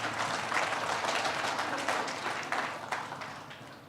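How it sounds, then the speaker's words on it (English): Audience applause at a brewing industry panel talk, a steady wash of clapping from a crowd lasting a few seconds and slowly tapering off. "round of applause"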